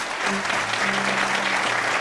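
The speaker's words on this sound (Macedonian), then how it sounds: "Уште еден аплауз!" A studio audience at a Christmas television special of children's evergreen songs applauds in steady, dense clapping throughout, with faint tonal sounds underneath.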